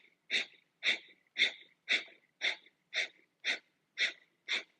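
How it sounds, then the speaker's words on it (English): Breath of fire yoga breathing: nine rapid, forceful exhalations through the nose in an even rhythm of about two per second. Each puff is close and clear against silence. "take a deep inhale to begin breath of fire"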